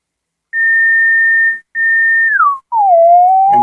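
A semi-modular synth's VCF self-oscillating into a pure sine tone, a steady whistle-like pitch in two bursts that then slides downward and settles lower, loud and clean with brief gaps of silence.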